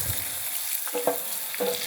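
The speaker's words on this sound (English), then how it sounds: "And give this a quick little stir." Melted butter with roasted garlic is stirred in a pan, giving a soft close sizzle with a few quick scraping strokes near the end, no talking.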